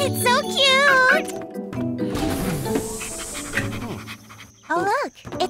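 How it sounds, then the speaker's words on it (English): A cartoon puppy pants in quick, breathy bursts beneath a bright, busy backdrop of playful music and a voice in a children's train animation, with a light jingle near the end. "Oh, look, it's a puppy."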